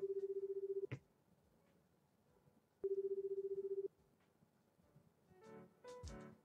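Telephone call in the video game Last Day of Spring: two long, steady electronic tones a couple of seconds apart, heard clearly alone, followed by soft rustling and brief clicks.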